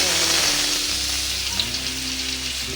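Rita fish sizzling in hot oil in a wok, a steady broadband frying hiss that stays loud and close throughout, with a low hum underneath and no talk.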